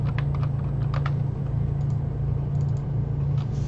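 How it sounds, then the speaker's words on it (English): Light tapping on a computer keyboard, a few scattered keystrokes in short runs over a steady low hum, close and clear with no talking. "And now I can go in here and I can start typing thing out."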